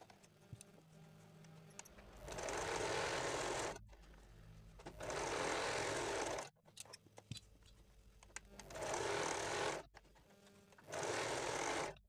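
A sewing machine stitches down the centre of four tucks on a blouse front panel, running in four steady bursts of a couple of seconds each with short pauses between them, close and fairly loud with no talking.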